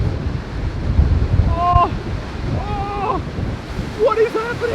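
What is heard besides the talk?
ocean waves and wind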